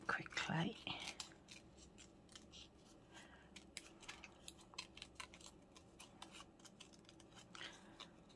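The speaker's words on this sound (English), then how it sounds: "Let me cut round these quickly." Tiny scissors cutting around paper envelopes for journal inserts, a quick series of close, crisp snips in an uneven rhythm after a brief moment of soft speech at the start.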